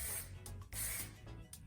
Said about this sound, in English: So we'll spray a little bit of the Char.